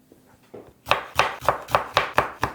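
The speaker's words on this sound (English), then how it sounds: "And then we're putting in our jalapeños. So just slicing them up" A knife slices fresh jalapeños on a cutting board for a spicy sardine dish: seven crisp, evenly spaced chops close up after a few faint taps, with no talking.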